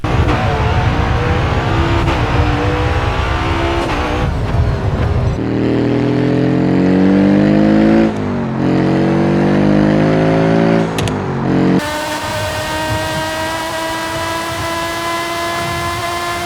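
Racing video game car engines roar loudly and continuously, revving up and down through gear changes with sharp cuts between different cars, some squealing tyres, and no talking.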